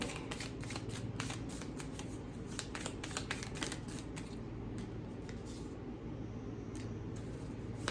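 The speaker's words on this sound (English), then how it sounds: "I'm gonna draw one more badass affirmation card for each one" Tarot and affirmation cards shuffled and drawn from a deck, rapid close crisp riffles and snapping flicks in a busy run over a low steady background hum.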